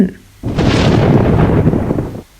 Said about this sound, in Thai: ฟ้าร้องเสียงคลื่นคลื่นมาแต่ไกล